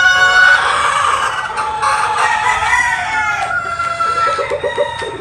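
Gamefowl stag roosters at a Philippine breeding farm crow and cluck, several birds calling close by in overlapping bursts with a steady background of crowing throughout.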